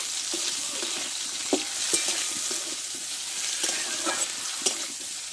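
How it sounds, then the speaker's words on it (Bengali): Pointed gourd and papaya sauté with a pinch of turmeric in a hot pan, a continuous close sizzle punctuated by irregular spatula scrapes and taps against the pan. "এক চিমটে আমি হলুদ দিয়ে দেবো প্রথমে একটু ভালো করে কষে নিব"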